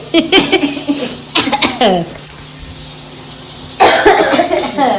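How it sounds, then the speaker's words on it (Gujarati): Someone coughs from chili fumes in sharp repeated bursts up close, then pauses and coughs again; light laughter mixes in. "મારી દીકરી ઉધરસ શરૂ કરી દીધી"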